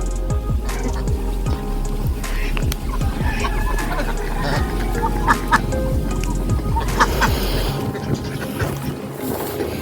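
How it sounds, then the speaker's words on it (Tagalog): A large flock of ducks on the water at a duck farm in Sta. Maria, Laguna, quacking densely and continuously nearby, with a low boat engine hum underneath and a voice occasionally speaking over them. "ang daming itik nito"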